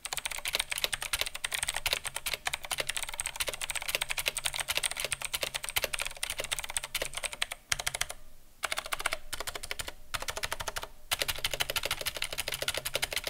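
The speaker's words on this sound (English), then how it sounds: "if you're wanting that mechanical typewriter sound, then this is the way to go. Just be warned, it is pretty loud" Fast, steady typing on a cheap mechanical keyboard with clicky blue switches, a loud, dense stream of sharp clacks close up, broken by a couple of brief pauses.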